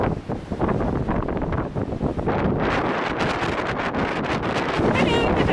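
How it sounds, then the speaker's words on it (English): Loud, constant wind buffeting the microphone with rumbling gusts throughout, rough and roaring. "There's all sorts of background noise. It's very windy."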